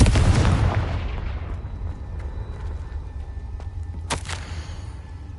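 A Confringo blasting spell explodes in Hogwarts Legacy with a loud, deep boom that rumbles away over a couple of seconds. A second, sharper burst follows a few seconds later.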